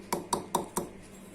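Roasted spices for mango pickle pounded by hand in small quantity, four sharp evenly spaced strikes with a metallic clink, close and fairly quiet, no talking.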